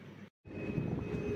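Aircraft engine drone fills the cabin of a Fly91 flight bound for Sindhudurg. It is a steady, low, even hum, broken once by a brief dead-silent gap before resuming at the same level.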